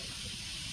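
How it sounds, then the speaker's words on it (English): Steam hissing steadily from an Instant Pot's pressure release vent after it is switched from sealing to venting, a continuous broadband rush held at even level throughout with no talk over it. "you can probably hear the hiss of the steam come up"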